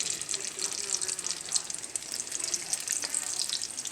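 Cuban potato balls frying in about an inch and a half of hot grease, a continuous close bubbling sizzle with fine crackling pops, steady throughout.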